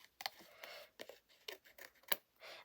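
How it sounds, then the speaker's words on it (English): Scissors cut through card for a vintage typewriter greeting card, a quiet series of close, crisp snips coming in an irregular rhythm with no talking. "pop my scissors through and almost come in from the bottom and roughly cut the shape in the middle"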